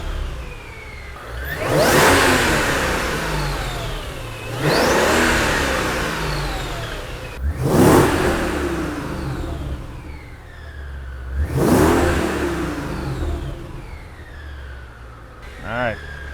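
A tuned 600-horsepower Mercedes-Benz engine revs hard in repeated bursts, each rising and falling roughly every few seconds, loud and close, with excited voices exclaiming between the revs.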